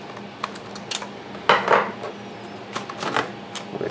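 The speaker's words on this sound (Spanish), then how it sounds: "Vamos a retirar el disco duro" Small metallic clicks and scrapes as a laptop hard drive held by a single screw is taken out during disassembly, a few sharp taps and a louder rattling handling noise, close and quiet.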